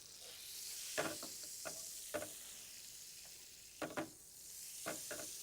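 Butter sizzles softly as it melts in a crepe pan, a steady fizzing hiss broken by several light scraping clinks of a utensil stirring.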